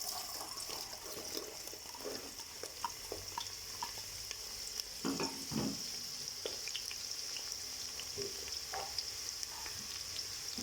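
Onions frying in hot cooking oil inside a pressure cooker, a steady bright sizzle with scattered pops and occasional scraping, close and fairly quiet, no talking.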